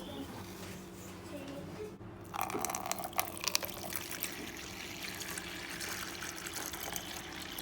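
Water is poured for an injured farm bird, a soft, steady trickle and splash that grows a bit louder midway, heard fairly close over faint background noise.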